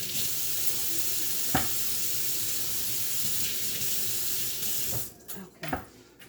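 A kitchen tap runs steadily as potatoes are rinsed under it, a constant hiss of water that breaks off near the end into a few splashes and clatters.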